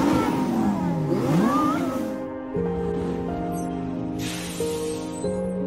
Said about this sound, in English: And here is a Lamborghini parade.